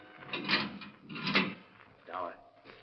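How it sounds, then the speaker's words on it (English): A heavy steel door is opened as a radio drama sound effect, giving three scraping, creaking surges of metal that swell and fade at a moderate distance. "The steel door was being opened."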